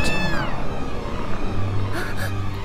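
A cat meows in the video game Gravity Rush Remastered: a rising and falling whine near the start, over a low rumbling game background, with a couple of faint short sounds later.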